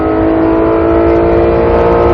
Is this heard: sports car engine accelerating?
yes